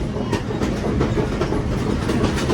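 A train rolls along the scenic railway in Sri Lanka, with a steady loud rumble and a rhythmic clickety-clack of wheels over rail joints heard from on board.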